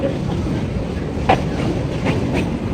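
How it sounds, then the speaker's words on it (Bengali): A train rumbles past on a bridge in Cologne, Germany, a steady heavy roar with faint rhythmic clicks and a brief metallic squeal, no voices. "ট্রেন যাচ্ছে অনেক শব্দ"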